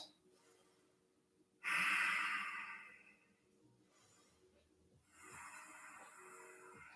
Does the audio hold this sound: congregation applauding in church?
no